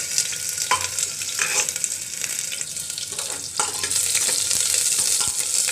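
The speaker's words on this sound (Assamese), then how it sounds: "আৰু অলপ সময় মই এনেদৰে ভাজি লম" Onions sizzle and crackle steadily in a hot pan, with occasional stirring scrapes; the frying hiss grows a little louder toward the end.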